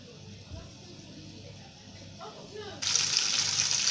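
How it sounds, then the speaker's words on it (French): Water pouring into a pan of cooking tomato sauce with meat, a steady gushing stream that starts abruptly near the end and grows louder over a low kitchen background. "Ensuite, je vais rajouter de l'eau."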